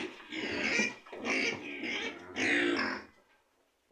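A Landrace pig grunts and squeals in four loud, close bursts, then falls silent.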